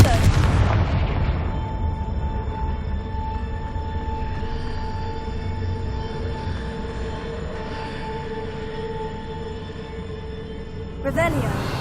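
Confringo blasting spell in the video game Hogwarts Legacy, a blast at the start that decays into a long ringing, humming rumble lasting several seconds, ending with another sharp impact.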